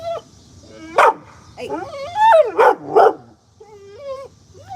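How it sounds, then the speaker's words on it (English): A puppy in a home gives a run of high, excited yips and short barks with whimpering wails between them, loud and close, coming in irregular bursts with no one talking over it. "oh, there's a puppy."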